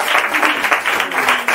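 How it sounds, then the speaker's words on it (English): A live audience at a podcast recording claps in a dense, loud burst of applause that holds steady, close and alone, throughout the short stretch. "So give yourselves a round of applause as well."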